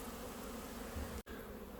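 Honey bees fly in and out of a fully open hive entrance, their wings giving a steady, close, dense buzzing hum that runs throughout, with only a very brief drop near the end.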